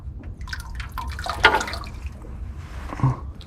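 Engine oil from an Alfa Romeo 4C drains into a drain pan, a continuous splashing, trickling pour with a few sharper drips and clinks, close up over low background rumble.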